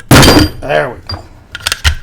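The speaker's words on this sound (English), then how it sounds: "Give it some taps, and the barrel comes out." The barrel of a Sterling MK4 submachine gun is tapped out during disassembly: a sharp knock at the start, then a quick run of metallic taps near the end, with a brief voice in between.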